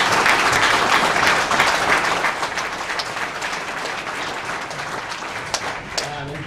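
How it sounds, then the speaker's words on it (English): Close, full applause fills the room at a Startup Weekend awards night in Perth, thinning gradually toward the end, with a few scattered claps and a voice starting up as it fades. "Let's give a round of applause"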